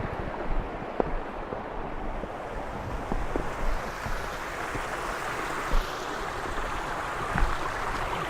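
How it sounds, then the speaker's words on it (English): Waterfall in the Lake District, heard as a steady broadband rush of falling water with some wind noise, continuous and fairly close for the whole stretch, with no voices. "This is one of the waterfalls I was talking about."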